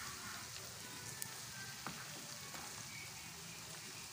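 Beef chaap sizzles and fries steadily in a pan of hot oil, a soft, continuous crackle with a few faint pops and light stirring clinks, heard alone without talk.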